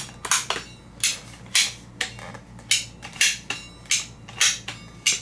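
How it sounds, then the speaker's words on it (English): A ratcheting PVC pipe cutter squeezes through plastic pipe in a rapid, even series of sharp clicks about twice a second, close and clear over a faint steady background hum. "Put your pipe in there like this, hold it nice and square, and you just start squeezing the handle."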